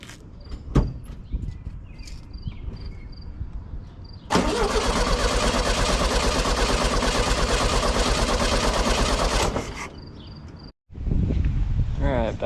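A 1972 Volkswagen Karmann Ghia that sat for 20 years, fitted with new spark plugs, cranks over loudly for about five seconds without catching, then a brief pause and another crank; a faint voice is heard beforehand.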